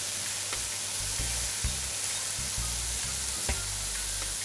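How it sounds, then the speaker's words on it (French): Mushrooms sweat in a hot pan, giving a steady close sizzle of frying with repeated low thumps and scrapes as they are stirred. "c'est la coloration et de faire suer, de faire rendre l'eau aux champignons"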